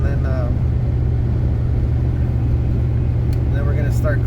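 Pickup truck engine overtaking uphill while towing a camper, a constant loud low rumble of the motor and road noise throughout, with brief faint sounds near the end.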